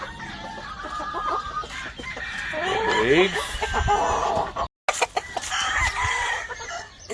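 Cardinal club rooster and hen chickens clucking on a farm, a busy run of clucks and crowing-like calls that rises and falls over several seconds, with a person talking over the birds and a brief dropout near the end.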